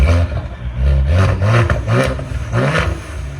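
A 2023 Ford Explorer ST with a 3.0L EcoBoost V6, downpipes and valved exhaust with the valves open, revs hard in several loud, deep bursts that rise and fall close by.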